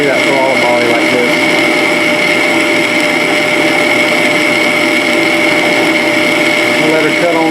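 A boring jig cuts steadily through a metal throttle body, giving a loud, continuous high-pitched machining whine with a constant grinding tone that never lets up.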